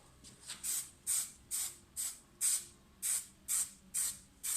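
A spray can of adhesive hisses in a series of short, regular bursts onto the edge of a laminate kitchen worktop, about nine sharp sprays in a row, close and fairly loud, with no talking.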